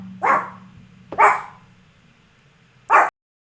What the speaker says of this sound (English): Crazy dogs ruin my recording.